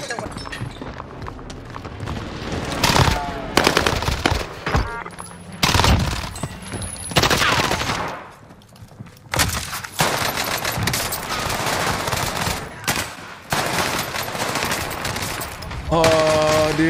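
Gunfire in an online shooter game: bursts of rapid automatic fire and scattered single shots come and go over seventeen seconds, fairly loud, with a player talking in places between them.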